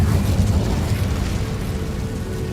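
A fiery Incendio spell from Hogwarts Legacy erupts as a steady, roaring burst of flame with a deep rumbling low end, loud and close, sustained for a couple of seconds without any talk over it.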